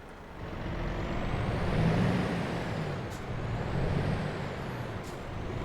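A truck engine idling after start-up in Euro Truck Simulator 2, a steady low rumble with a brief air-brake hiss, no talk.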